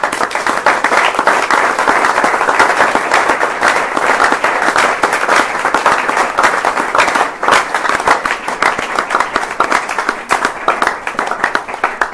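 A church congregation clapping and cheering in praise, a dense, loud, continuous wave of applause that holds steady for over ten seconds.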